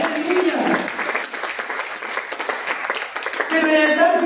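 A church congregation breaks into warm, sustained applause, many hands clapping together in a dense wash that carries through, with voices and cheers mixed in.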